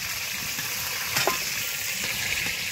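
Chicken pieces sizzle steadily in hot mustard oil for biryani, with a dense, even crackle and a couple of brief stirring scrapes partway through.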